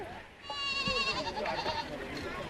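A goat at a mountain-village wedding in Nepal's Langtang valley lets out a loud, wavering bleat, held for over a second, close by with voices murmuring in the background.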